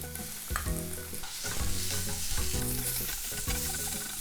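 Onion and smashed garlic fry in hot olive oil in a frying pan, a steady loud sizzle broken by repeated stirring scrapes, with no talk.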